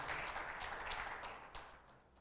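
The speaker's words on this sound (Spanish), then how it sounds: "Un aplauso para el Señor, hermanos." Faint applause from a church congregation, a brief patter of clapping that fades away after a couple of seconds.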